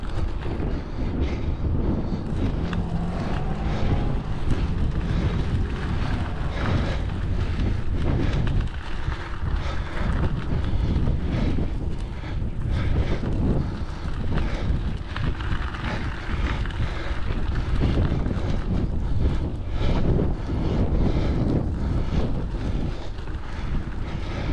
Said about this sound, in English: That wind's picked up